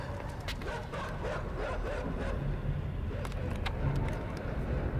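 Dogs bark and yip in the game INSIDE, several short barks scattered over a low rumbling background, moderately loud but somewhat muffled.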